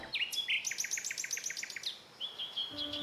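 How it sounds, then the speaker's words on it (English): A Galápagos vampire finch gives a rapid series of high, bright chirps followed by a thin sustained whistle, close and clear against quiet background hiss. "The vampire finch."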